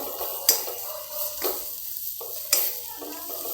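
Kofta curry gravy with curd and kasuri methi is stirred in a pan, a soft sizzle under repeated scraping strokes of a spoon, with two sharper metallic clinks.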